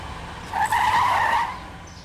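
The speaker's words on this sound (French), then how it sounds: "Arrête la voiture." A car braking to a sudden stop, its tires giving a short loud squeal that swells and fades within about a second, close by with no talk over it.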